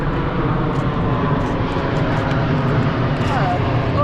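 A Rwanda Air airplane passes overhead in a residential neighbourhood in Rwanda, a continuous broad roar of jet engines that stays steady and loud throughout, with faint bird chirps on top.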